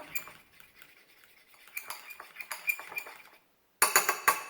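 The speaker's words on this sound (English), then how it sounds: "All right, and final stir." A spoon stirs vegan brownie mug cake batter flavored with almond extract, making close, quick clinks and scrapes against the mug that grow louder, pause briefly, then return in a sharp final burst.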